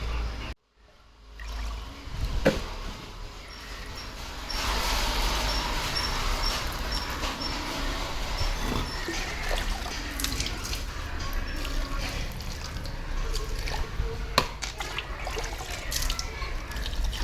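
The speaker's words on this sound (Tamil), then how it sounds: "இப்போ வந்து எல்லாத்துலேயுமே வந்து தண்ணி ஊற்றிடலாம்" Water poured slowly from a can onto newly planted garden plants in a home garden, a soft steady trickle and drip running continuously at close range with no talking.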